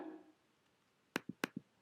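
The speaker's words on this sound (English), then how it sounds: "the next sound I have here is just this guitar stop sound" A guitar stop sample in a chillout track, made of two paired hits, each a sharp percussive click followed quickly by a softer muted thump, quiet and isolated after a fading tone.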